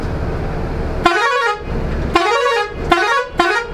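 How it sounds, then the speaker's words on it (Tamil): A Scania coach's air horn blasts four times in quick succession, loud and close, each honk a rich multi-tone blare separated by brief gaps. "அண்ட் ஒரே தடவை ஹார்ன் அடிச்சுக்கேன், நான் ஹார்ன் ஒர்க் ஆகாதா?"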